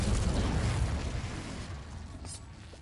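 Magical blasting spell explosion in a Harry Potter-style wizarding video game inside a cave, a loud booming burst with rumbling low end that decays over a few seconds, followed by a brief bright flash of sound near the end.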